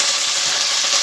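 Curry leaves frying in hot oil for a sambar tempering, giving a steady, close, loud crackling sizzle that fills the short moment without a break.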